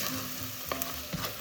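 Two onions frying in butter in a pan to caramelize, a close, steady sizzle with a couple of soft stirring knocks, no voices.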